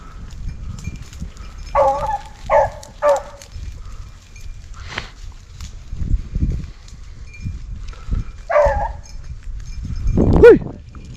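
Hunting dogs bark during a large group rabbit hunt outdoors: a few short, moderately distant barks in a quick cluster, then a long quiet gap and another bark or two, over faint outdoor background.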